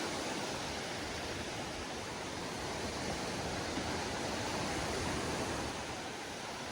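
Rough Black Sea surf at a beach resort in Odesa region, a constant dense roar of breaking waves with no pauses, moderately distant.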